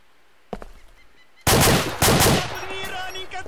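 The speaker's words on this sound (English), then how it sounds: "Seemed like the shots came from down in front of you" Gunfire in the military shooter ARMA2: a faint early crack, then a loud close burst of several rapid shots, followed by another sharp report and fading echoes.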